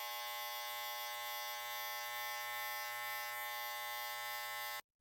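Electric hair clippers trim a beard fade, humming in a steady, close, continuous buzz that cuts off abruptly near the end.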